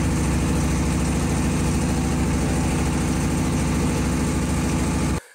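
A small boat's engine runs steadily on Kaptai Lake, a loud, continuous low drone with constant vibration that holds for about five seconds before cutting off abruptly.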